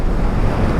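Fast-flowing river water rushes between big mountains in Kalam Valley. It makes a close, steady, broadband roar mixed with wind noise.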